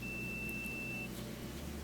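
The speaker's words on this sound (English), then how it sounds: "take your continuity tester and put it on each terminal, and you should hear" A continuity tester probing the terminals of an oven's gas safety valve gives one faint, thin, steady electronic beep lasting about a second over low background hum.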